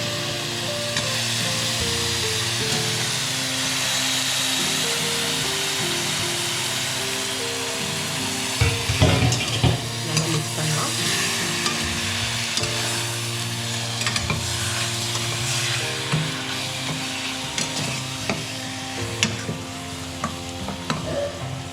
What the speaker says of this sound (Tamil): மட்டன் வந்து நல்லா வதங்குற வரைக்கும் வெயிட் பண்ணுவோம்